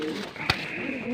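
A female pigeon coos with low, rolling calls, near and moderately loud, broken by a single sharp click midway; a voice may be faintly present.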